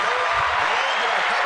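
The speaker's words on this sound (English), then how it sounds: "Clap it up for that." Steady applause from an audience at a youth motivation event in the Bronx, a dense wash of clapping filling the whole moment at even loudness, with faint crowd murmur underneath.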